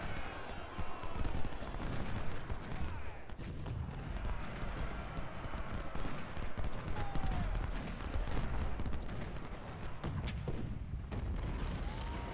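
Siege cannon and artillery fire in the Civil War strategy video game Ultimate General: Civil War, with repeated booming blasts and crackling gunfire layered in a dense, continuous battle din, fairly loud.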